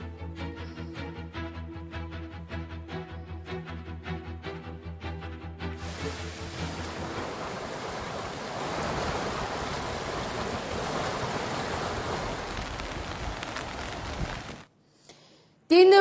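Floodwater of the Kamwari river rushing during heavy rain in Bhiwandi, a loud, steady broadband roar that follows a few seconds of music and cuts off abruptly near the end.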